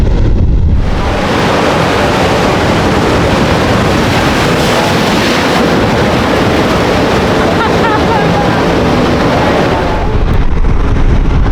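Atlantic Ocean surf at Taghazout, Morocco, roars as a loud, continuous wash of breaking waves, buffeted by heavy wind across the microphone for almost all of the clip.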